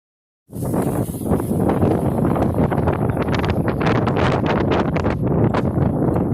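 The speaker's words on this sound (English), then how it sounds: "Maybe it's too windy." Strong wind buffets the microphone on a dock at Sandy Bay, Roatán, Honduras, in a steady, roaring rush with gusty crackles, loud and continuous after a brief silent start.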